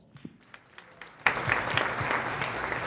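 At a business forum, a few scattered claps build into full audience applause as speakers return to the stage, the crowd suddenly swelling into a dense, sustained round.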